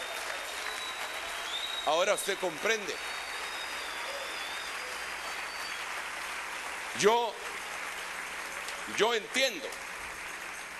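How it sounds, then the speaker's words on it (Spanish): A church congregation applauds, a steady wash of clapping continuing throughout at moderate level while someone speaks over it in short bursts. "Dele un aplauso al Rey bendito."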